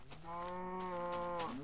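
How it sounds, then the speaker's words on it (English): A single Minecraft cow lets out one drawn-out low moo in a video game, close and clear, sliding down in pitch at the end with no talking over it. "Hey, cow! Moo!"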